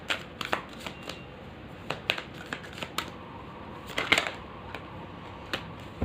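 Tarot cards are shuffled close up to draw a clarifier card, giving bursts of sharp papery flicks and slaps in uneven clusters, one busier flurry midway, with no voice.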